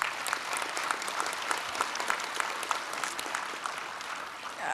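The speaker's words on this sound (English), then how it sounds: "a big applause from the graduates for all your support crew" Graduates at a university graduation ceremony in Brisbane applaud their supporters, producing a dense, even wash of many hands clapping throughout, moderately distant in a large hall.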